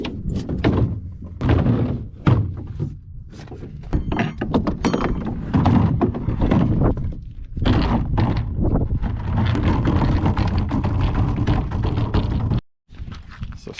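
Clunks, knocks and metallic rattles from a ratchet strap being released over a 21 gallon Rhino septic tank on a trailer, loud and close, in irregular bursts with a short gap near the end.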